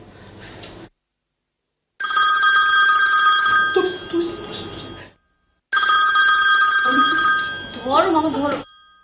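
A landline telephone rings in repeated bursts of bright electronic trilling separated by short silences, with people talking over parts of the rings.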